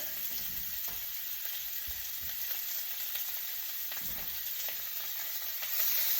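Pork chops sizzle steadily in a hot frying pan, a dense, constant crackling hiss close by that grows slightly louder near the end, with no voices.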